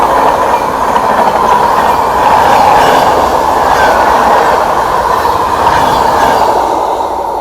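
A train rumbles past at close range in a loud, continuous roar with rhythmic wheel noise as an Amrit Bharat Express and Lucknow Tejas run side by side on an Indian railway line.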